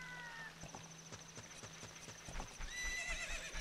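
Hooves clip-clop in an uneven trot, then a horse whinnies near the end, with faint musical tones in the background, in the video game Zelda: Ocarina of Time / Majora's Mask.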